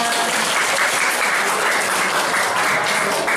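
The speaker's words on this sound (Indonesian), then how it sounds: "Tepuk tangan dulu dong." Loud, dense applause from a school audience at an Isra Mi'raj event, a continuous wash of many hands clapping together without pause and no talk over it.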